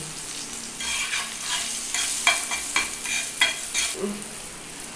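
Close, crackling sizzle of food frying in hot oil, with a few scraping stirs of a utensil against the pan.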